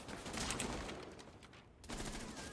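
Video game gunfire hitting a wall, a dense, continuous rattle of shots and impacts with a brief dip before it picks up again, loud and busy, with no speech.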